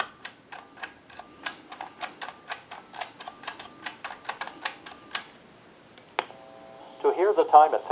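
A Western Electric Princess telephone dials out: a run of quick, evenly spaced clicks from the rotary-style dialing fills most of the moment, followed by a short tone and the start of a ringing or answering signal at the end.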